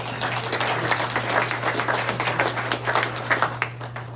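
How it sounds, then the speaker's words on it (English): An audience at a Des Moines Rotary Club meeting gives a short burst of clapping, moderately loud with uneven individual claps. A steady low hum runs underneath. "Round of applause for our greeter today, Kurt Johnson."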